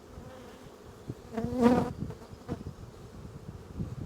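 Many honey bees buzzing inside a hive box, a swelling drone with one louder close pass in the middle, a single spoken word heard faintly.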